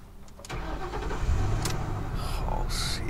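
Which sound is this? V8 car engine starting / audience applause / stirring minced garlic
V8 car engine starting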